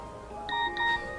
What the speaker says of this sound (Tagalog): Tatawagan ko si Senyorita Gabi